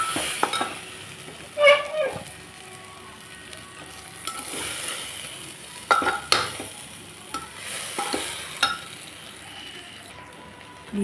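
Vegetables, rice and lentils with turmeric and salt being stir-fried for khichuri in a pot: a steady soft sizzle broken by scraping stirs and occasional clinks of the spoon against the metal, with no talk.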